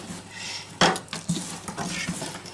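Dry scraping and clinking as a utensil stirs shredded cabbage with sugar in a bowl, a few irregular knocks and rustles, close and fairly quiet.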